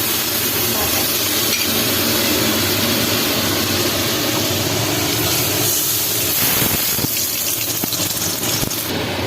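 Ginger, cumin, coriander and tomato sizzle together in hot oil with fried onion while fish is being cooked, a loud, dense, steady hiss with a few stirring clinks toward the end.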